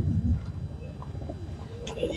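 A Malwai pigeon of a Punjab breed cooing close by in a soft, low, throaty burble, with light chirps and a steady background murmur.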